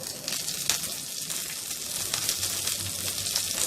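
Curry leaves, green chili pieces, dried red chilies and asafoetida sizzle and fry in hot oil in a pan for tamarind rice, a steady broad crackle with small pops, close and continuous with no talking.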